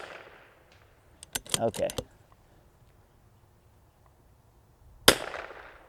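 A .22LR precision rimfire rifle fires one sharp, clean crack near the end, with a quick fading tail outdoors. A brief spoken word and some clicking handling noises come earlier.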